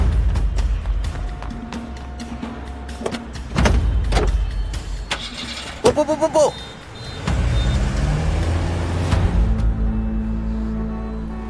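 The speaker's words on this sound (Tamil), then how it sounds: "கார் இங்க இருக்கு." A car starts and pulls away amid general vehicle noise and scattered clunks, with engine rumble building toward the end while a voice shouts urgently over it.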